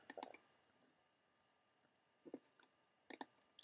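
Soft computer mouse clicks, a few short taps spaced apart in a quiet room as settings are saved.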